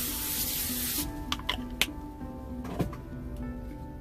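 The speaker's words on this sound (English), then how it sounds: "I'm going to give it a spray." A short burst of cooking spray hisses for about a second, followed by a few light clicks and rustles in a quiet room.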